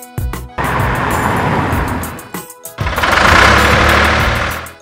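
A cartoon red Canada van's engine chugs and revs loudly, with a short sputtering burst, a brief pause, then a longer rumbling rev that swells and fades.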